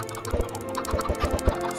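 Minecraft chickens clucking in short repeated bursts, several sharp low pops over a steady background hum, moderately loud with no talking.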